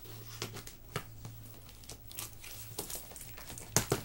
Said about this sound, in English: I have this package now, and I'm opening it for you guys to show you what it is.